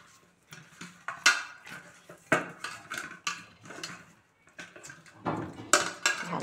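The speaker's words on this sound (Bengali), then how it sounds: "এই দেখো, মাছে ভালো করে নুন হলুদটা মাখিয়ে নেবো।" Pieces of fish are worked with salt and turmeric in a bowl, making irregular clinks and knocks of metal and dishware with wet rubbing and shuffling in between, fairly close and with no voices.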